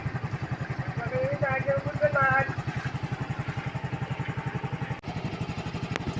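A Yamaha scooter that would not start after sitting out in the rain now idles after a kickstart, its engine putting out a close, fast, even putter, while a person talks over the first half.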